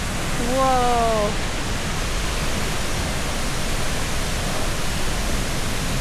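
A waterfall in the rainforest near La Fortuna, Costa Rica, pours as a steady, broad rushing roar throughout, with a bird's call near the start and a voice speaking briefly.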